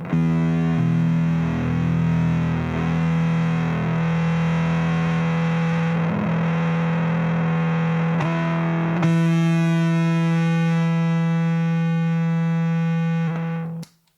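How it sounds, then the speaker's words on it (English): A sustained, heavily fuzzed bass guitar note through an MXR M84 Bass Fuzz Deluxe pedal growls loudly and thickly, swelling brighter partway through before cutting off at the end. "it just becomes really loud and uncontrollable, which is part of the fun of fuzz pedals"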